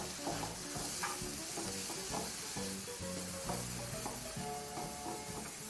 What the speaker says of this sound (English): And now all you're left to do now is continue mixing